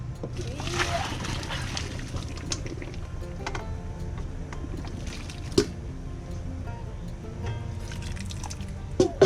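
Boiled broccoli drains in a kitchen, with water splashing and sloshing faintly, scattered drips and a couple of sharp knocks, at low level throughout.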